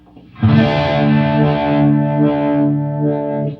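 A sustained electric guitar chord through a pedal in vintage mode, with a soft, warm, slightly muffled tape-like tone, ringing steadily for several seconds before a gentle change.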